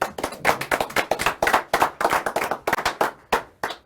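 A small audience claps after a card trick at a magic show, with a few hands giving uneven, sharp, close slaps that come in quick irregular bursts and break off near the end.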